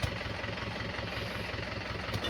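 A tractor engine idles nearby with a steady, even low thumping rhythm that holds for a couple of seconds, with no talking.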